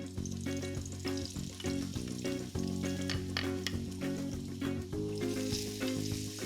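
Chopped onions and celery fry in a pan, a loud, continuous, close sizzle with occasional stirring and clatter running throughout.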